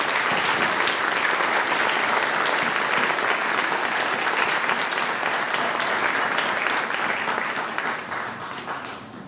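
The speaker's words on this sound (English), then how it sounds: "special applause for the 8th graders." An audience at a middle school orchestra concert applauds the 8th graders with loud, sustained clapping that fills the hall for about nine seconds and then begins to fade near the end.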